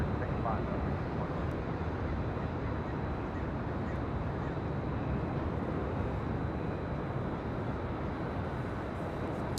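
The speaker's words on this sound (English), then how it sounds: "That was the third MD-11 departure we've seen today" A FedEx MD-11 jet departs LAX, a constant, even rumbling roar heard at a distance from a hotel rooftop, sustained and unvarying throughout.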